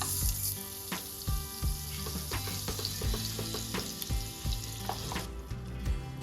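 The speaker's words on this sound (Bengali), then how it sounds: "কড়াইতে সাদা তেল দিয়েছি, আর তেলের মধ্যে অল্প একটু জাস্ট বাটার দেব।" Butter melting in hot white oil in a wok sizzles and crackles steadily, with clinks of a utensil against the pan, close and fairly loud.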